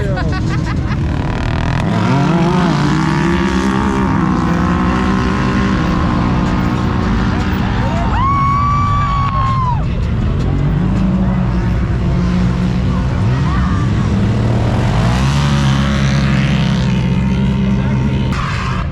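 Race cars and trucks roar around a dirt racetrack cut into a cornfield, with loud engines revving and droning continuously and rising and falling as they pass close by.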